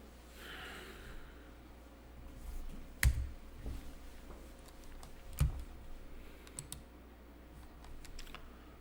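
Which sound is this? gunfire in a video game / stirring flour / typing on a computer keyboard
typing on a computer keyboard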